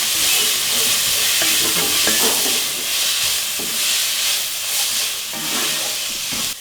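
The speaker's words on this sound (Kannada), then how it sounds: "ಅರಿಶಿನ ಹಾಕಿ ಮಿಕ್ಸ್ ಮಾಡ್ಕೋಬೇಕು" A spoon stirs chicken with turmeric in a hot pan, scraping and clattering in irregular strokes over a steady close sizzle.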